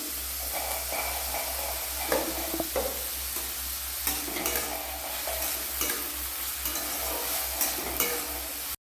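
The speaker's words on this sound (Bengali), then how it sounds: "ফুলকপিতে আমি গাজরটাকেও দিয়ে দিচ্ছি, একসঙ্গে কষে নেব" Cauliflower, carrot and beans stir-fried together in a pan for a filling, a steady close sizzle with repeated scraping and clattering stirs throughout, no voices.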